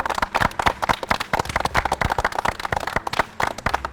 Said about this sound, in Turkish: O zaman biz Türk askerini Türk askerini alkışlayalım mı? Alkışlayalım.